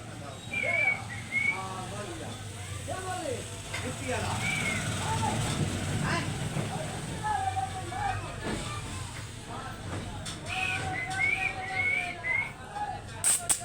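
A parrot whistles in short bright chirps and tonal phrases scattered throughout, close by, while someone talks and some traffic noise runs underneath.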